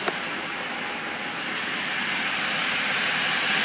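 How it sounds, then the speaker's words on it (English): Rear air conditioning unit running inside a 2005 Dodge Sprinter 3500 van, a steady, even broadband blowing hum that stays constant and close throughout, growing slightly louder near the end, with no talking. "What you hear is the AC, the back AC running."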